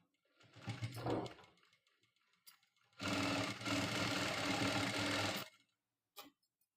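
A tailoring sewing machine stitches the front panel of a blouse, a short buzzing run followed by a steady loud stretch of rapid needle chatter for about two and a half seconds, then a brief final burst.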